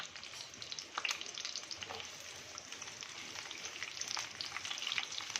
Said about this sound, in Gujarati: આપણે ડુંગળી અને કેપ્સિકમના કટકા કર્યા હતા એ અંદર નાખી અને સેલો ફ્રાય કરી લેશું.